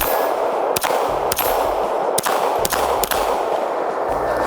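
Oracle Arms 2311 pistol fired downrange at an outdoor range, several sharp cracks spaced irregularly about half a second to a second apart, each ringing over a loud steady background.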